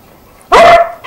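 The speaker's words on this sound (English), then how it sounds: "puppy was gonna bite Peekaloo." A puppy gives a single loud, sharp bark that trails into a brief tonal whine, close by, with no talk over it.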